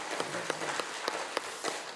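Faint, distant applause from a church congregation at a joint worship service, a steady wash of clapping with a few sharper claps standing out.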